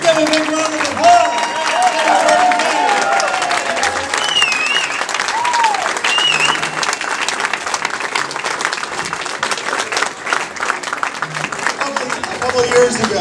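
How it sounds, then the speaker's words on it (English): A crowd of county Democrats applauds at a political gathering for Senator Bernie Sanders, producing loud, dense clapping that holds steady throughout, with cheering and whistles rising over it. "Let's give a big round of applause."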